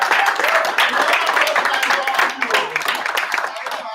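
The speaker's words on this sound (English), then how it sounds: "please give him a hand of applause for his" Applause rises at a Liberian student union conference in China as the audience claps for an honoured guest, a steady wash of clapping with a voice talking over part of it.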